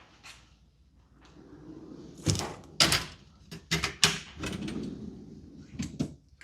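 Drawers of a US General 56-inch tool box roll open and bang closed, giving several sharp metal thunks and sliding rattles in an irregular sequence, close by and loud.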